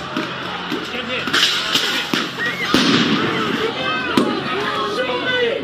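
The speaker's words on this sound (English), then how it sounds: "There are people throwing fireworks and who knows what else." Fireworks and firecrackers being thrown and set off in a city street at night, repeated sharp cracks and pops over a constant crowd din, with whistling rockets and voices mixed in.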